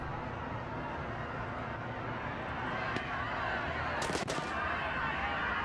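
Firecrackers bursting during a street riot in a protest-simulation video game: a few sharp cracks around the three- and four-second marks, with one quick cluster of pops, over a steady wash of crowd and game ambience.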